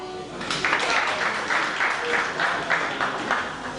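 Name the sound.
audience applause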